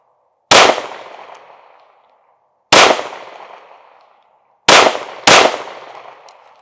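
Four sharp pistol shots from a Springfield Hellcat Pro Comp ring out outdoors, each a loud close crack with a fading tail, the last two fired in quick succession.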